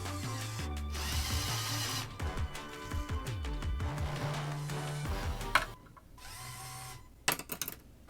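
A LEGO robot arm whirs and grinds as it pushes a small axle through a Technic hole, with motor tones rising and falling in steps, clicking plastic and a sharp snap at the end, close and moderately loud.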